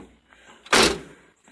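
A single solid thunk of a 1978 Chevrolet El Camino door shutting close by, followed by a short fading rumble.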